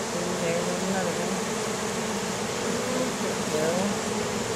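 A swarm of honey bees buzzing around a table-box hive in a backyard beekeeping setting, a dense continuous hum that stays steady and fairly close for the whole stretch.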